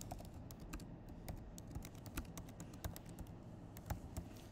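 Rapid, close computer keyboard typing clatters on continuously, with many sharp key taps over a low background hum and no talking.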